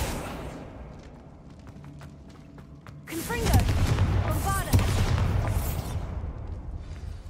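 A Bombarda blasting spell in Hogwarts Legacy sets off a sudden loud explosive boom with crackling debris after a quieter stretch, followed by a second impact and rumbling that slowly fades.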